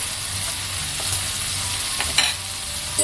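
Potatoes and shrimp fry in a pan with a constant close sizzle, and a few brief scraping and stirring ticks rise over the hiss.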